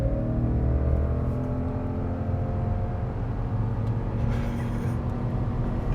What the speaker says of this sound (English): '23 Subaru Legacy GT with the big engine with no launch control